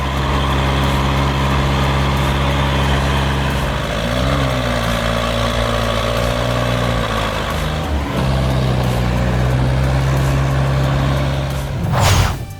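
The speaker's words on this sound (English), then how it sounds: "This crew managed to turn hauling logs with a Massey Ferguson 285S tractor into an extreme sport." A heavy diesel engine from a Massey Ferguson 285S tractor hauling logs off-road drones loud and steady, its pitch rising and falling as the load strains, with a sharp burst of noise near the end. No one speaks.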